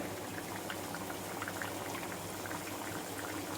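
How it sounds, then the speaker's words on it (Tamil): Small bondas deep-fry in hot oil, bubbling in a dense, continuous, even fizz that stays fairly quiet and unchanging from start to finish, with no voices. "நல்லா ஃப்ரை ஆகட்டும்"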